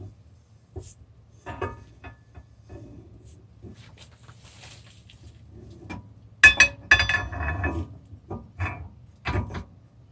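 A steel axle slides into a Ford 8.8 rear axle housing with sparse metallic clinks and scrapes, louder clanks near the end, close in a quiet driveway.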